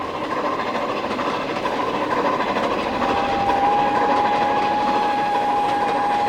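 The Flying Scotsman steam locomotive runs past on a rail excursion behind the Southern Crescent, a steady loud rumble of wheels and rolling stock with a faint whistle-like tone partway through.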